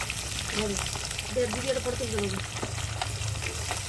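Eggplant slices frying in mustard oil in a wok give a steady, close sizzle throughout, with a voice talking over it.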